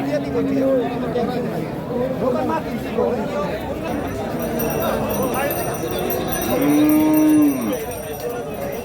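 Cattle at the Hazratpur Qurbani cattle market lowing twice, a moo near the start and a louder, longer one later, amid crowd chatter and someone talking.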